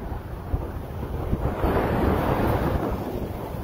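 Ocean waves wash onto a beach in a steady roar of surf, with a swelling break midway and heavy wind buffeting the microphone.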